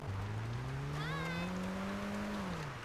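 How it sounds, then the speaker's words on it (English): A car in GTA 5 tearing across beach sand, its engine droning steadily and rising gently in pitch with a brief squealing tone partway through, close and continuous. "These beachgoers are incredibly chill with a car just ripping up the sand right between their towels"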